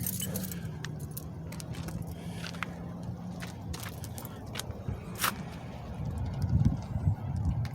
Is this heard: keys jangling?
yes